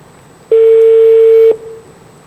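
A telephone call being dialed: a single steady electronic tone lasting about a second, loud and clean against a near-silent background.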